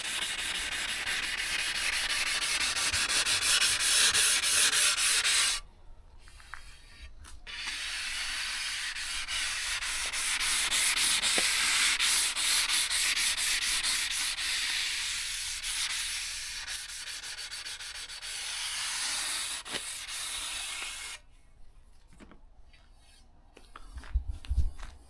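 Edges of tiles for a bathroom sink basin being mitred with a power tool, producing a loud continuous abrasive grinding rasp in long stretches, broken by brief pauses, with no talking.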